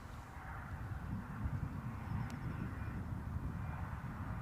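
Jet aircraft engines at Newcastle airport runway, a continuous low broad roar holding steady for several seconds at moderate distance, with no talk over it.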